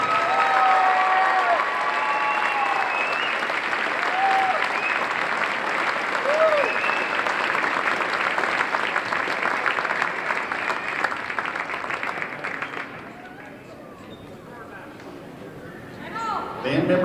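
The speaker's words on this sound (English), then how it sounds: "Give this group one more round of applause" Sustained crowd applause fills a high school gym honoring senior basketball players, band members and parents, dense and steady for most of the stretch before thinning out near the end, with voices mixed in.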